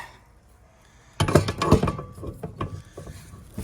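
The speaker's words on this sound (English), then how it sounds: "Tighten it with my fingers and take my socket." A socket wrench ratchets while tightening a fitting on a 2017 Grand Design Imagine camper, giving a burst of quick metallic clicking and rattling up close that settles into scattered clicks after a quiet start.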